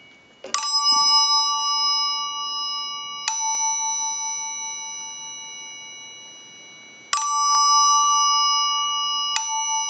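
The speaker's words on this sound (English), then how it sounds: "We'll start out in the chime mode." In chime mode, a Northern Telecom bell ringer sounds bright two-tone metallic strikes, two close pairs whose tones hang and slowly fade between hits, nearby and alone without any voices.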